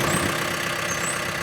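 A tractor engine idles with a steady low rumble in a garden before tilling, holding constant and moderately loud through a short stretch with wind in the background.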